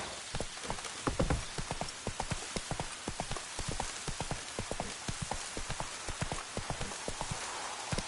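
Roach, the horse in The Witcher 3: Wild Hunt, gallops in a steady, rapid rhythm of loud, close hoofbeats across the whole stretch, with a soft rain-like hiss underneath.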